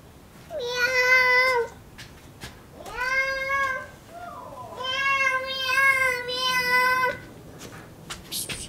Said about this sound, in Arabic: عندنا بقى احنا قطه هنا